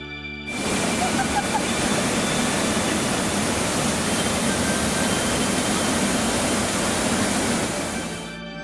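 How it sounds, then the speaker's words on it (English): Polola waterfall in Polgampola, Kalutara, Sri Lanka, roars as a loud, steady broadband rush that starts abruptly and holds evenly throughout, close by and unbroken. "The Polola waterfall in Polgampola."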